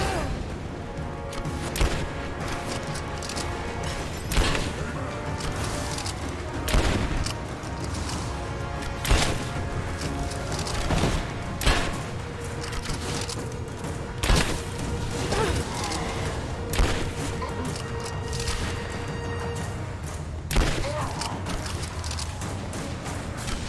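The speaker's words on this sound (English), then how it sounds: "Ah, that's the shotgun," A shotgun fires repeatedly in the video game Rise of the Tomb Raider, sharp booming blasts every few seconds over continuous game music and background effects.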